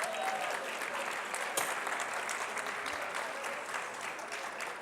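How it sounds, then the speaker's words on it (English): A big round of applause from the audience at an awards luncheon for a group of kids, dense, continuous clapping from a large room, steady in level throughout. "All right, a big round of applause for these great kids."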